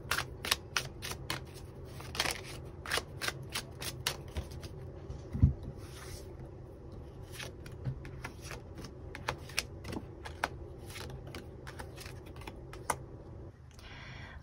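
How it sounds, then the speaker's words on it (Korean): Tarot cards are shuffled and drawn in a quiet room, with a long run of crisp, irregular card snaps and flicks, close and fairly soft, and no talk. "추가 카드 뽑아보도록 하겠습니다"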